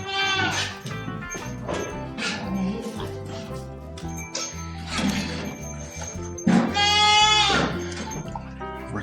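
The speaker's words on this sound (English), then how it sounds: "Good little goats." Goats bleating in a farm shelter during a blizzard, several loud close calls rising over a steady background hum, with a person talking quietly between them.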